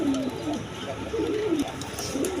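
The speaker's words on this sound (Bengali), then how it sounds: "আমেরিকান নুরেমবার্গ লার কবুতর" American Nuremberg lark pigeons coo in repeated low rolling phrases, several calls across a couple of seconds, fairly close, over a steady background hum.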